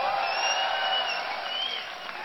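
A large BlizzCon esports crowd at a StarCraft II match cheers and applauds in a steady, loud, bright roar that fades slightly at the end.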